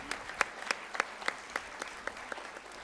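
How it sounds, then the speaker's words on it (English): Sparse, quiet applause from a small audience at a national conference of CA students for fifteen student paper presenters, with a handful of distinct claps spread across the moment. "A huge round of applause for them"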